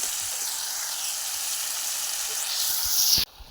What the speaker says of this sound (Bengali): সেই দেখো টমেটোর সঙ্গে মশলা দিয়ে ভেজে নিচ্ছি